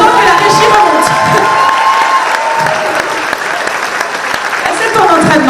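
Sustained applause from a cosplay contest audience fills the hall, loud and continuous with scattered cheers and children's shouts mixed in, while voices carry faintly underneath.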